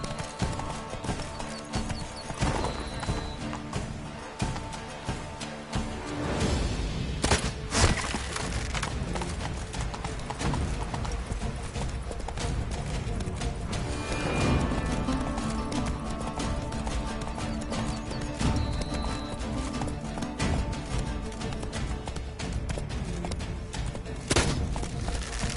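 Roach the horse gallops in The Witcher 3, with rapid rhythmic hoofbeats thudding steadily across the ground. A brief whinny and game ambience sit underneath, and the pounding stays continuous and close throughout.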